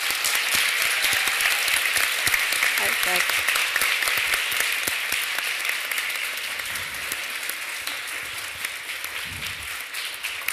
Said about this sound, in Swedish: Så nu vill jag ha en kraftfull applåd.